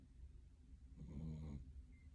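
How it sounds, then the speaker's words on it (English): A dog snores softly nearby, one slow, low rumbling inhale swelling in the middle of an otherwise quiet indoor room, with no talk. "if you hear snoring, it's the dog"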